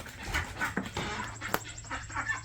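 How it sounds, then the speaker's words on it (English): Young ducks in a dirty backyard coop, giving soft scattered peeps and clucking calls against a steady low hum, with a few sharper bursts standing out. "Baby ducks have gotten huge"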